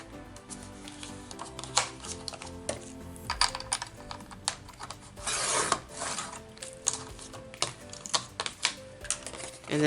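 Packaging board being cut to size by hand, with close, dry scraping and tapping strokes and small clicks in an irregular rhythm, plus a louder rasping pass midway, all near and without voices.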